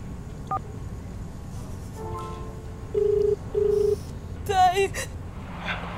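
Telephone keypad tones sound as a number is dialed, a few evenly spaced beeps followed by a burst of rapid tones, with soft voices in the background.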